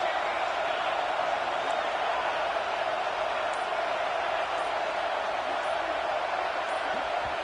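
Broad, steady roar of a packed stadium crowd at Autzen Stadium during a college football game, a constant loud wash of voices with no break across the whole stretch.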